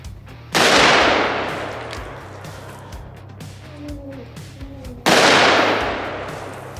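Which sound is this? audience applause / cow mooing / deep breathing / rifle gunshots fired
rifle gunshots fired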